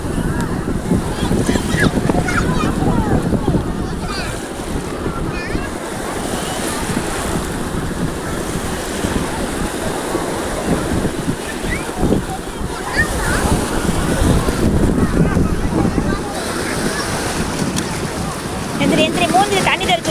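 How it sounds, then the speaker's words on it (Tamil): Big ocean waves crash and roll onto a beach under constant wind buffeting the microphone, a loud continuous surf roar with swells surging and receding while people talk and call out nearby. "பெரிய அலை, பெரிய அலை, பெரிய அலை."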